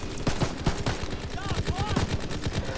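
Bren machine gun firing in a World War II video game, rapid continuous bursts of loud close gunfire with other shots mixed in, under a voice speaking.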